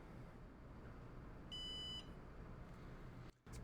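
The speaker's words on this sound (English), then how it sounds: "And that was the beep we were waiting for. That basically tells us, hey, the NAS has booted on up" A Synology NAS gives a single steady electronic beep lasting about half a second once it finishes booting, clear above a constant low room hum, with no talk.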